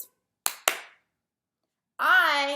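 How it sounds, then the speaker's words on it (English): Two sharp hand claps in quick succession ring out close and clear in a quiet room, followed shortly by a voice starting to speak. "then clap twice"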